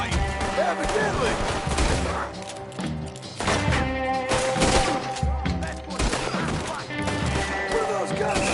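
Red Dead Redemption 2 gunfire, with repeated loud sharp shots scattered throughout over a busy, dense game soundtrack, with some voice.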